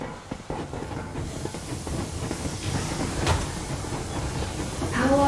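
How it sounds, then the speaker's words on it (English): A steam train in the game Metro Exodus pulls away with rumbling, clanking and a hissing wash of steam that builds steadily, loud and continuous, with a short tonal whistle-like sound near the end. "Yermak, full steam ahead"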